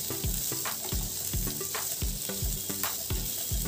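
Roughly chopped onions frying in oil, a constant bright sizzle with regular scraping stirs of a spatula about every half second, close and without talk.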